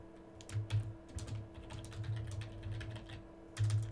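Rapid keystrokes on a computer keyboard while writing C++ code, irregular bursts of close clicks and taps with brief pauses, no voices.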